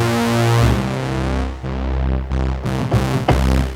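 Opening sound of the FabFilter Twin 3 synthesizer plugin: a rich sustained chord of bright harmonic synth tones that shifts through several abrupt changes and swells, loud and alone.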